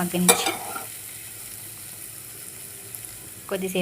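A chili-spiced mixture gets stirred in a frying pan: a clatter of spoon against pan at the start and again near the end, with a quiet low sizzle in between.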